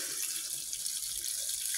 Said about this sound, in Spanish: De agua no le voy a echar toda